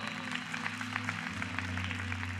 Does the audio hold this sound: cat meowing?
no